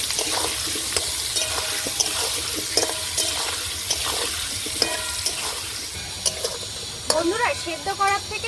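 Young jackfruit frying and being stirred in a pan for a village-style goat head curry, with a steady sizzle broken by repeated scraping stirs and a brief splash of water near the end.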